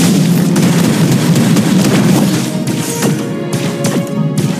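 A turret is destroyed in the mobile game Mobile Legends: a loud run of booming crashes and thuds, followed by sharp cracking blasts over a ringing tone.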